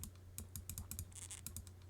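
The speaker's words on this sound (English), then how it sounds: "Let me type this." Fingers tap out quick, uneven keystrokes on a computer keyboard, a brief close burst of clicks with a low steady hum underneath and no voices.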